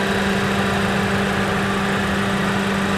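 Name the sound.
Suzuki Ertiga GX manual car engine idling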